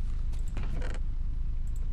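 A trap door placed in Minecraft gives one short wooden creak, a single brief mechanical squeak near the start over a steady low background hum, with no speech.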